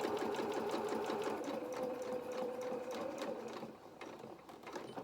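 A sewing machine stitches the head seam of a fabric elephant doll, a steady close mechanical whirr with rapid rhythmic needle clatter that runs continuously and eases slightly toward the end.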